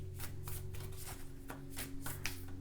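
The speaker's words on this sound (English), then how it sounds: "They're stiffer cards, harder for me to shuffle, so we'll pull one." Stiff tarot cards are shuffled by hand in a run of quick, close riffling bursts at an even rhythm over a low steady hum, with no talking.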